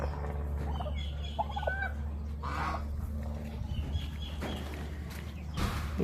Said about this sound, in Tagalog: Yung mga pabo natin na broad-breasted